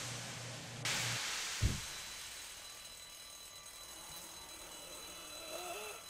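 Alarm clock in The Walking Dead game: a faint, low ringing buzz that starts the clip and stops after about a second, followed by a soft thud and quiet room tone.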